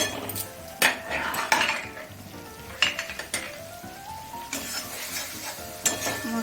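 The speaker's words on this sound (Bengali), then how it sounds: "মশলাটা একটু জল দিয়ে মশলাটা আমি 4 থেকে 5 মিনিট হালকা আঁচে ভেজে নেব।" Spice paste fries gently in a pan over low heat with a soft steady sizzle. A metal spoon or spatula scrapes and clinks against the pan in irregular strokes, close by, with no talking.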